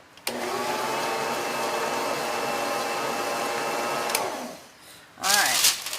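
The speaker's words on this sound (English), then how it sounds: "I love this mixer because it's so powerful and so strong." An electric stand mixer beats cookie dough with a loud, steady motor whir for about four seconds, then winds down and stops, followed by a brief clatter.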